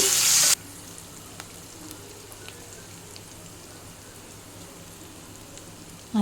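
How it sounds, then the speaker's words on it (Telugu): Curry leaves and green chillies fry in hot oil with a soft, even sizzle and occasional faint crackles, close but fairly quiet, after a brief louder burst at the start. "కరివేపాకు వేసి వేయించాలి"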